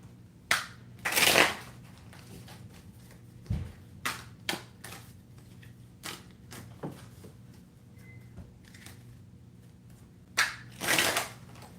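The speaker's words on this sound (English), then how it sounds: "Get a shuffle in." Tarot cards being shuffled by hand, several short riffling bursts spaced apart with quiet pauses and soft taps between, close and fairly faint.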